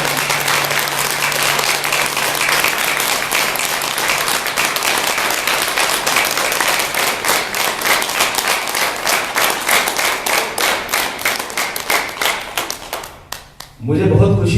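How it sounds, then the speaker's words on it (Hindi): Loud, dense applause from an audience at a yoga and health event fills the space steadily, then thins out near the end before a voice cuts in. "तो कृपया एक बार जोरदार तालियों से"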